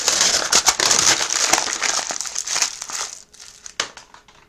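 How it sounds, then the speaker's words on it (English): Sheet of paper scrunched up by hand in a quiet room, a dense run of close, crisp crinkling and crackling that thins out into a few scattered rustles. "Have you ever been in a test room where you hear the sound of scrunching paper?"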